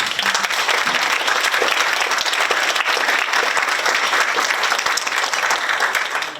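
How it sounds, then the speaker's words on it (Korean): Loud, continuous applause from the audience at the inauguration ceremony of the San Francisco council chairwoman, many hands clapping densely and evenly throughout. "오미자 회장님께 뜨거운 축하와 격려와 감사 박수 부탁드립니다"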